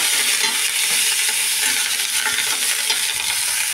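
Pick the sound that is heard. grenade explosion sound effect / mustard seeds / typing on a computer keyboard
mustard seeds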